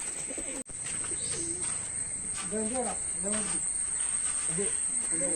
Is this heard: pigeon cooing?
yes